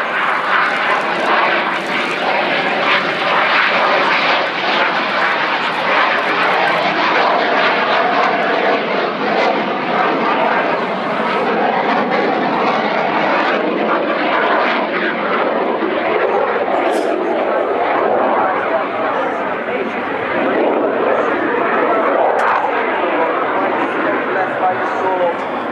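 Frecce Tricolori aerobatic jets fly a display at the RIAT airshow. A continuous loud roar of jet engines fills the whole stretch, with an announcer talking over it on the public address.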